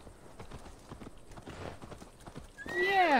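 Rhythmic hoofbeats thud along steadily in Assassin's Creed Valhalla, then a loud, shrill horse whinny rises near the end.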